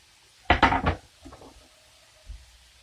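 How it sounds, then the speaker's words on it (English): Chopped onions tumbling into a dry pan for homemade burger helper with lean turkey, a close clattering thump about half a second long followed by a few faint scrapes and a soft knock. "So let's get my onions in here."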